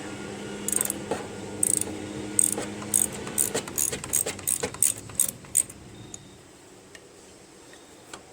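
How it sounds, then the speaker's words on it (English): Ratchet wrench clicking as it turns a bolt on the starter motor of a Craftsman snow blower, a run of about a dozen close, sharp ticks in uneven bursts that thin out and stop toward the end, with no talking. "Let me see if I can get a ratchet in there."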